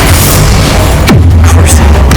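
Bombarda explosion spell going off in the Hogwarts Legacy video game: a single loud boom with a falling, sweeping tail over a dense, busy game soundscape, followed by brief crackling bursts.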